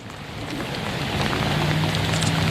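Steady rain falling during a thunderstorm in Topeka, Kansas, a dense, continuous hiss of drops that swells slightly, with no talk over it.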